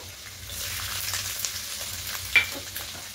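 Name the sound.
frying garlic and ginger in oil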